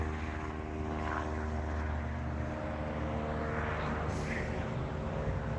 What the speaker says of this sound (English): There's a plane flying a banner